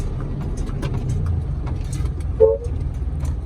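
A dump truck rumbles with a low, steady engine drone, and a short, sharp squeal of its brakes cuts through partway along. No one speaks.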